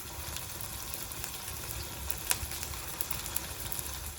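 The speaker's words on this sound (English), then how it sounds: "We're going to fry our nice little patties in our frying pan." Cornmeal johnny cakes sizzle in a frying pan over an open hearth in eighteenth-century style cooking, a steady crackling hiss with occasional sharp pops, fairly close and unaccompanied by speech.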